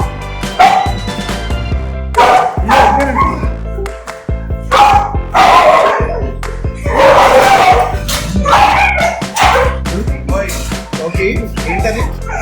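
Dogs at a boarding kennel barking loudly and close in repeated bursts of yips and barks, with whining between them and faint voices underneath.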